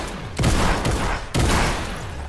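Shotgun blasts in the Fortnite video game: two heavy, close booms about a second apart, each leaving a dense, lingering burst of noise.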